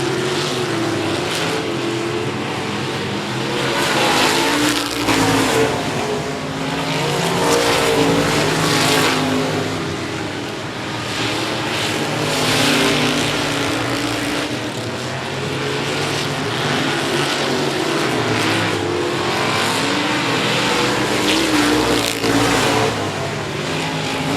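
Race cars roar around the 105 Speedway oval in a battle for the lead, a steady dense engine drone that swells and fades as the pack passes, loud and continuous with no talk.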